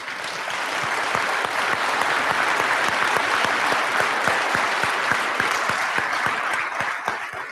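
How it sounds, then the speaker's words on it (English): Sustained audience applause fills a large hall at a university presidential investiture ceremony, dense and steady throughout with no talking, holding at an even level before easing slightly near the end. "that's only phase one of the applause"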